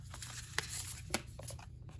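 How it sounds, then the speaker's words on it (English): A deck of oracle cards is shuffled by hand, a soft continuous papery riffling with a few sharper card snaps, close and fairly quiet. "So I am shuffling from this Intuitive Whispers Oracle."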